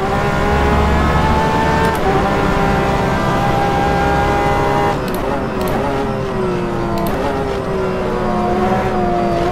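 Porsche 911 RSR GTE race car engine in rFactor 2 at the Portimao circuit, a loud sustained flat-six howl rising through the revs, with sharp upshifts that drop the pitch before it climbs again, mostly alone with a faint voice underneath.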